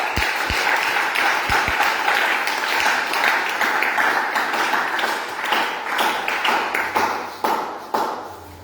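A church congregation applauds and acclaims loudly and continuously, a dense wash of clapping with scattered sharper claps throughout, no speech standing out.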